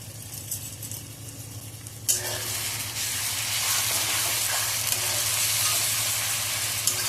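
Onions fry golden brown in a pan for an Odia-style mutton curry; quiet stirring gives way to a loud, steady sizzle that swells after the ingredients hit the hot oil and holds to the end.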